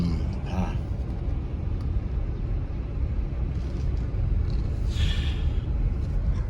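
Steady traffic noise from many vehicles on a busy road, a continuous broadband rumble with engines passing, occasional brief higher hisses like air brakes, and faint voices in the background.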